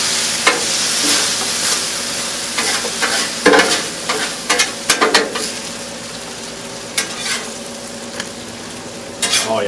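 Ground beef fries on a Blackstone flat-top griddle with a strong, steady sizzle, punctuated by a cluster of metal spatula scrapes and clanks partway through.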